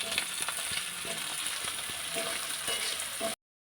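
Prawns fry in a pan with turmeric, coriander powder and tamarind water, giving a steady, close sizzle with occasional crackles and stirring clatter and no talk, stopping abruptly near the end.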